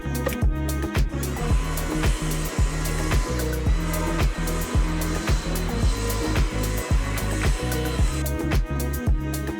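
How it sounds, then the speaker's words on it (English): A Milwaukee blower attachment driven by a battery multi-tool whirs steadily over an overgrown hedge, its pitch pulsing in a regular rapid rhythm, loud and close, with no talk. "Milwaukee have this new blower attachment that goes onto the multi-tool"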